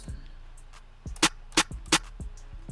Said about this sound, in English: I also added a snare which sounds something like this